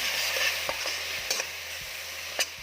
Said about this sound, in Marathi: आता हे छान तेल सुटेपर्यंत भाजून घ्यायचं